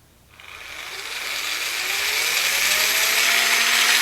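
Motor-driven gearbox with some plastic gears spinning up from quiet to a fast, rising whir, its pitch climbing as the speed increases into a steady buzzing drone.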